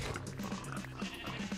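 Sheep bleat in a farming video game, with a few short, repeated bleats sounding under a steady background of music and ambience.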